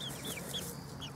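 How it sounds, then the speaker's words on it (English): Friendly young chickens in a backyard give soft, high clucks and chirps, several brief calls spaced across a moment over a quiet outdoor background, with no talking. "These chicks seem to be pretty friendly."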